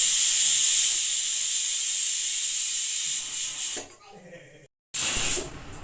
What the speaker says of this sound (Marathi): ह्याला आम्ही 4 शिट्ट्या देणार आहे